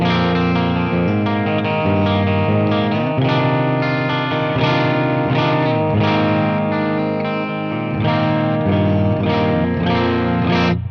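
Budget metal electric guitar on its bridge pickup, clean tone, playing chords and picked notes with a bright, full tone, steady and close, no voices.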